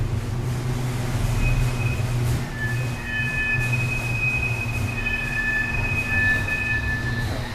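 Steady rumble of the Tide light rail train in motion in Norfolk, Virginia, heard from inside, with faint squealing wheel tones drifting over the continuous roar.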